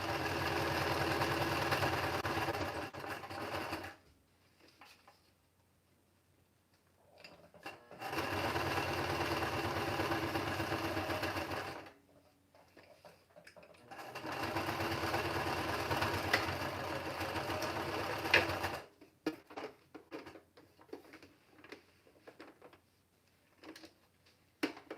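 A sewing machine stitches mixed media cards in three separate runs of steady, rapid mechanical whirring and needle ticking, each several seconds long with quiet pauses between, close by and fairly soft, with light handling clicks afterward.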